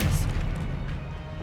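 Expelliarmus disarming spell fired in the Hogwarts Legacy video game, a brief crashing impact with a thudding low burst that quickly fades, close and fairly loud.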